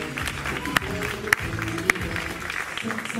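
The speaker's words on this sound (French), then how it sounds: "applaudissements pour Fatou, alias Beguilia" An audience at an eloquence event applauds a performer, clapping heard beneath a busy mix of low tones and murmur, with a few sharp loud claps or knocks standing out.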